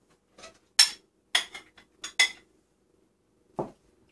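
Tamale masa and meat stirred together with chili in a bowl, with a few sharp clinks and scrapes of a utensil against the dish in short bursts, then a pause and one final knock.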